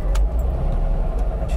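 Mercedes-Benz 300SL Gullwing W198 from 1955 with its engine starting and settling into a steady low rumble, loud and close, with a few brief higher rattles near the start and no talk.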